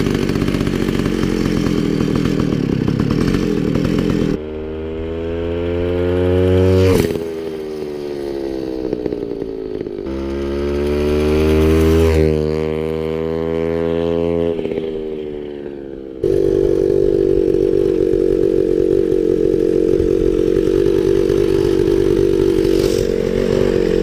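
Chainsaw-engine pocket bike buzzing past a close-up camera, a loud high-pitched two-stroke whine that swoops down in pitch twice as it passes, then resumes at a steady roar.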